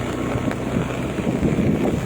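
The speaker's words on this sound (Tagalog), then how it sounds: "Malakas ang hangin" Strong gusting wind buffets the microphone outdoors at a flooded farm area in San Miguel, Bulacan, a steady low roar of rumbling wind noise throughout with no talk.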